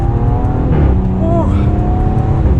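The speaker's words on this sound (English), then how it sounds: "you can hear that exhaust there" A 2020 Audi S6 Prestige exhaust droning steadily from inside the cabin, a low rumble with a brief rising engine note, while someone talks over it.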